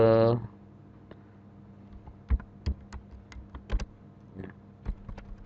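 Keys clack on a computer keyboard while someone works in a PuTTY SSH terminal, pressing Enter and Ctrl X: a few sparse, sharp taps spread out after a short burst of voice at the start.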